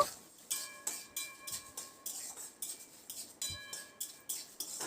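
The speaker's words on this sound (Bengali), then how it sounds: "মিনিট দু তিনেক মতো নাড়াচাড়া করে এটাকে ড্রাই রোস্ট করে নিয়েছি" Whole cinnamon, cloves, dried chillies and torn bay leaf stirred dry in a pan, a spoon repeatedly scraping and clinking against the metal in a steady rhythm, close and moderately quiet with no talking.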